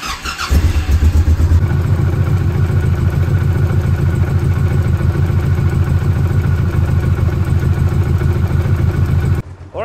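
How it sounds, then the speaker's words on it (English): A Honda VTX motorcycle with a leaking radiator cranks and catches, then idles loudly and steadily with a rapid, throbbing rumble for several seconds before cutting off. "let's start the engine."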